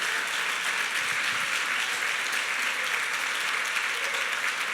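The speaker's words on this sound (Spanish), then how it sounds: "Dele un aplauso al Señor" A church congregation applauds during a sermon, a steady wash of many hands clapping, sustained and even from start to finish.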